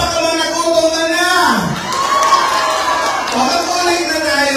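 A lively crowd at an outdoor community event cheers and whoops loudly, with shouts rising and falling over several seconds.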